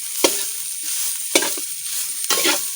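Cooked white rice is stirred into onion masala in a hot pan, with a constant sizzle and three sharp scraping strokes of a spoon, close and loud, with no talking.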